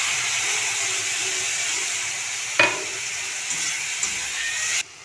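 Ginger-garlic paste sizzles steadily in hot oil with turmeric and salt, a bright continuous fry broken by a few scraping stirs before it cuts off abruptly.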